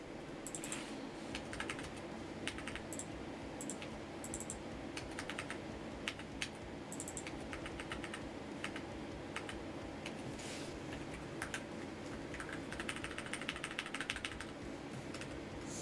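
Steady rapid typing on a computer keyboard with a sticky delete key after tea was spilled on it, dense irregular clicks running continuously and close up, no voices.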